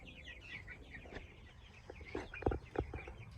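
Young meat chickens cluck and chirp softly inside their new coop, a few close, brief calls rising toward the end over a quiet background.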